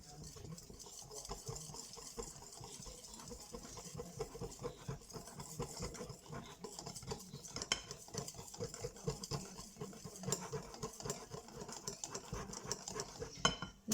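Crêpe batter of flour, eggs and milk whisked in a bowl: a continuous rapid scraping and clinking of whisk against the bowl, steady rhythmic strokes close up, quiet and unbroken by talk.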